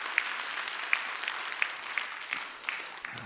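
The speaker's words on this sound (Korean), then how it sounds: "여러분 박수 한번 해주세요." Clapping from a church congregation during a service, heard as a faint, sparse patter of distant hand claps with no talking over it.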